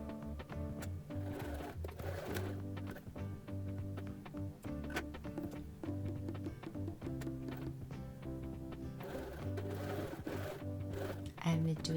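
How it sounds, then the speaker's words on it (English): A sewing machine stitches a handle onto the outer layer of a tote bag, whirring steadily and close with a rhythmic mechanical hum. A voice talks over it. "I'm gonna sew the handle on the outside layer of the tote bag"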